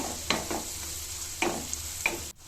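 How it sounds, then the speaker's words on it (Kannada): Garlic masala fries in a pan for spicy garlic rice, with a soft continuous sizzle broken by three or four sharp scraping stir strokes close by. No one speaks. "ಇದನ್ನು ಚೆನ್ನಾಗಿ ಫ್ರೈ ಮಾಡಬೇಕು ಹಸಿ ವಾಸನೆ ಎಲ್ಲ ಹೋಗಬೇಕು"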